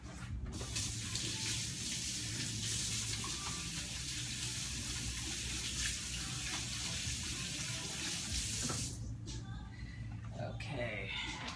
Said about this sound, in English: I need to wash my hands again.